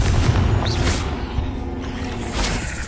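A Confringo explosive spell goes off in Hogwarts Legacy amid a spider fight: a loud, booming blast with a rumbling low-end tail that stays dense for a few seconds.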